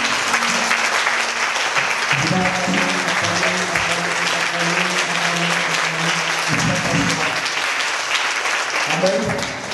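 A church congregation claps in loud, sustained applause to acclaim God, a dense steady patter that fills the space while voices call out and sing underneath.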